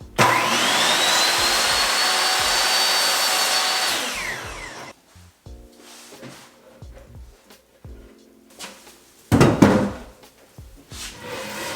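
Miter saw cutting wooden trim for a workbench, a loud whining cut lasting about four seconds as the blade spins down, followed by quieter knocks and handling of wood and another short burst of cutting.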